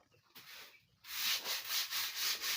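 A broom sweeps close by in steady, rhythmic scratchy strokes, starting softly and then growing louder and regular, with no talking.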